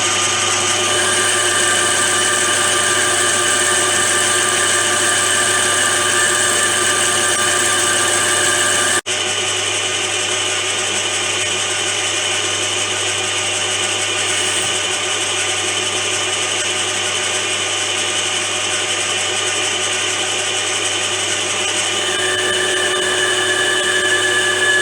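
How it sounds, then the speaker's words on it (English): A workshop lathe bores out the inside diameter of a small BSA Bantam engine part, a loud, steady machining whine with sustained tonal hum, briefly interrupted partway through then continuing unchanged, no talking. "So now we're just boring out the inside diameter."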